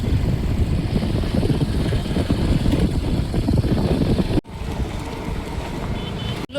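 Light breezy wind buffeting outdoors as steady rumbling gusts and microphone wind noise, loud and close, briefly cutting out twice.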